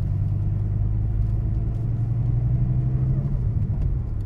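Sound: Dodge Viper GTS Hennessey 700R 8.4-litre engine rumble

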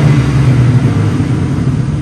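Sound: 510 hp car exhaust revving

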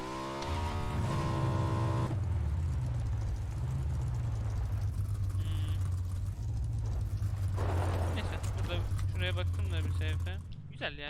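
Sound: motorcycle engine in PUBG video game

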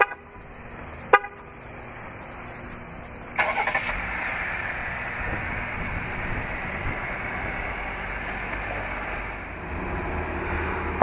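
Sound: 2016 Jeep Grand Cherokee remote start via key fob

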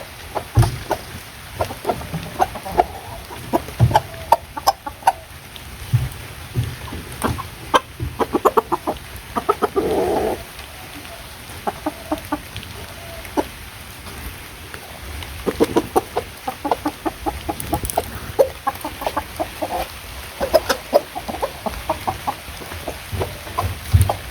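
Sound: rooster and chickens clucking

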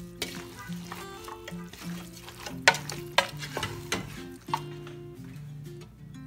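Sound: stirring spiced mixture in a pan

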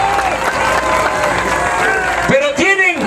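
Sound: crowd applauding and cheering at a rally

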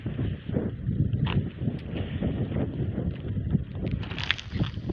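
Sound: wind

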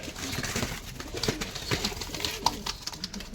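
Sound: Tara male pigeon cooing in a loft

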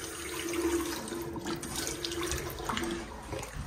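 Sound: water running from a new sink tap

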